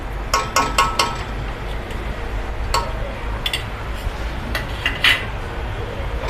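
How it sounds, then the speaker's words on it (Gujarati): Quick metallic clinks of a spoon against a pot while adding salt and ghee for Kutchi khichdi, a cluster early on then a few scattered taps, over a steady low background hum. "અડધી ચમચી આપણે એક ચમચી ઘી નાખીશું"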